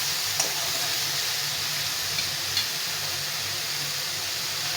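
Pumpkin greens sizzle steadily in a hot pan while being stirred, a continuous close hiss with a few faint scraping clicks and no voices.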